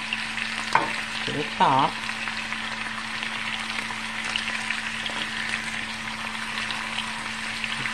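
Potatoes and onions frying together in a pan for old-fashioned fried potatoes, giving a steady, close sizzle that hisses throughout, with a brief spoken remark early on.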